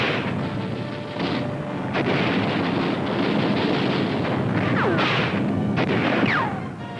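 Wartime combat during World War II street fighting in Manila, Philippines: continuous rumbling gunfire and distant booms in a dense, loud, crackling wash with no talking.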